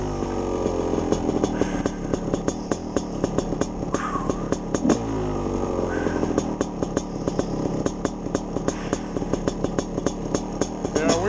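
A two-stroke motorcycle is ridden along a wooded trail, its engine buzzing and revving steadily close by the whole time, with rising and falling pitch and no break, and a voice is faintly heard over it.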